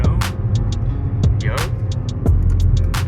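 Porsche 986 Boxster driving, heard from inside the car as a low engine drone with occasional clicks and knocks, fairly loud and close.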